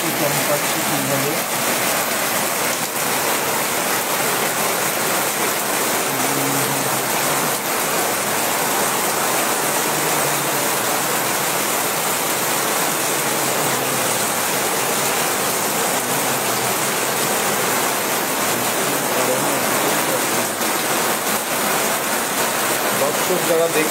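A heavy monsoon downpour in Deganga makes a dense, loud, unbroken roar of rain that holds steady for the whole stretch, with no pauses.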